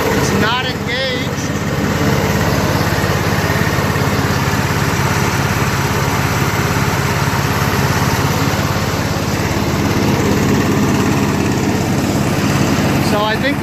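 A Craftsman riding lawn tractor with a 16.5 HP Kohler engine and 42-inch deck idles at low throttle, a loud steady drone close by with someone talking over it throughout.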